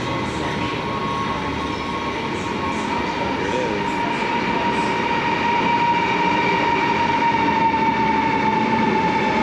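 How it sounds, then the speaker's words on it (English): A train rolls into a platform at Amsterdam Central Station with a loud steady rumble, sustained high wheel squeal and a faint clatter of wheels over the rails. "We were only on the platform for 10 minutes or less before this train rolled up."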